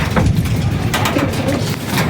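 Pigeons coo steadily at close range as they enter a loft, a continuous low murmur of overlapping calls with no talk.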